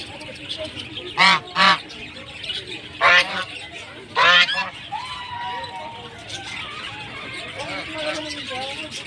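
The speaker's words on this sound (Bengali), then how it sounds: "তো হাঁসগুলো কত বড় বড়, কি ভালো লাগছিল দেখতে।" Large ducks at Amarabati Park in Digha give several loud honking calls in short bursts, close by, with people talking in between.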